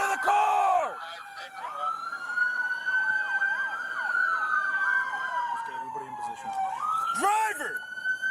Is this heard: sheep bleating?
no